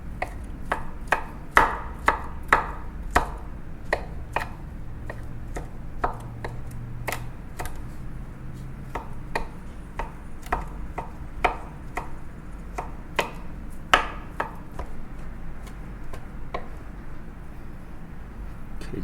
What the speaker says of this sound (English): I'm gonna chop it up here one more time.